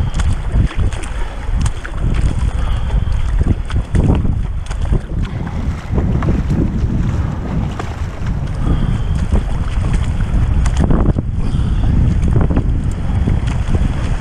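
Strong wind gusting across a river during a canoe and kayak descent of the Sioule, buffeting the microphone as loud continuous roaring noise with surging peaks and no talk.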